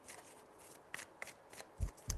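Playing cards being shuffled in several quick riffles, soft papery flutters ending with a couple of sharper taps, close and quiet.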